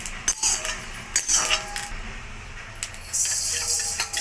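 Fenugreek seeds dry-roasted in a pan for tomato pickle, heard as a few close metallic clinks and scrapes of a spoon against the pan between quieter gaps, without speech.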